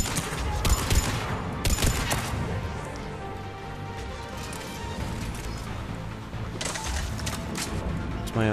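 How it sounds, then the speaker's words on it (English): Gunfire in the video game Mass Effect 3: a dense, ongoing battle of rapid shots and impacts over a busy game soundscape, with louder bursts near the start and end. "What are they shooting at?"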